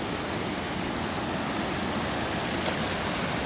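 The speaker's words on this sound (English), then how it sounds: "where the water's actually running through" Water rushing through a rock channel at Amnicon Falls State Park, a continuous broad roar of flowing water, steady and fairly distant, with no voices.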